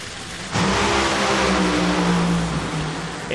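NHRA drag racing car at the Winternationals roaring down the strip toward the finish line: a sudden, loud, sustained engine blast that starts abruptly and holds steady, with a rough, dense, wideband roar for about three seconds.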